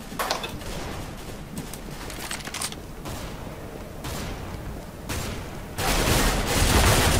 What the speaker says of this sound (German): Der kam schießen in die Ecke, oder?